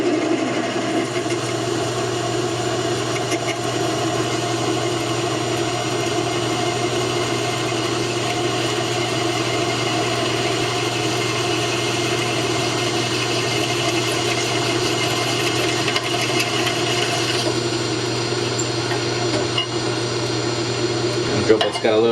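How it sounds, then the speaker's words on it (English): A hand-held drill bores into a metal tap wrench part, a steady whining, grinding hum that runs unbroken for about twenty seconds at close range, with a brief change near the end and no one speaking. "Drill bit's got a little bit of the wobbles there"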